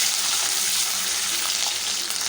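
Steady, dense sizzling of spices crackling in hot sesame oil, close and continuous, with faint popping throughout and no voices.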